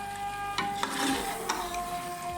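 Slices of ash gourd frying in oil in a pan, giving a steady close sizzle with a few soft utensil taps over it.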